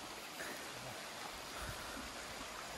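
A mountain stream flows high on the monsoon-season Buki Patan trek near Dhorpatan, Baglung, at around 4100 m, giving a faint, constant rushing wash with no voices.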